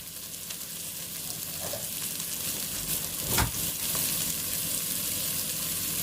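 Chopped onion and garlic frying in the juices left from cooked sausages in a home kitchen pan, a continuous close hiss that swells slightly partway through, with one brief knock, no talking.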